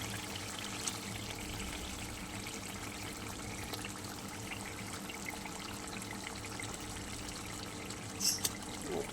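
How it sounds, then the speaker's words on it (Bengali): Water poured into a pan of fried boal fish for a Bengali oil-spiced curry, a steady low trickle and pour throughout, with a brief louder splash near the end. "অল্প জল দেবো, বেশি জল দেবো না আমি।"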